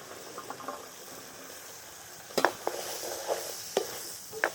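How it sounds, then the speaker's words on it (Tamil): Boiled chickpeas are stirred in a pan for spicy sundal, a soft sizzle under scattered sharp scrapes and clinks of a spoon against the pan, quiet and close. "அவிச்செடுத்து வச்சுக்கிற கடலையை சேர்த்து பிறத்துறேன்"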